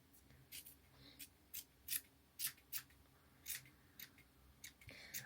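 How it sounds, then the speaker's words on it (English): Scissors trimming a handmade yarn pom-pom, a series of sharp, close snipping cuts in an uneven rhythm, roughly a dozen quick clips spaced across the few seconds, fairly quiet overall. "I'm going to trim mine so it's all lovely all the way round"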